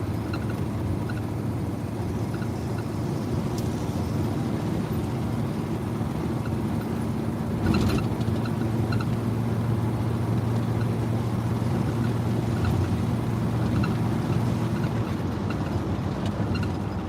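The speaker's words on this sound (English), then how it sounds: "it's shifting from first to second, second to third, and all that" Car with a rebuilt 700 transmission on a test drive, a steady low engine and road drone inside the cabin with a faint rise around the middle, no talking.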